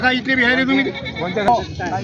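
Goats bleat repeatedly at the crowded Hingoli goat market in Maharashtra, a run of wavering, nasal cries close by over a steady murmur of the bustling trading ground.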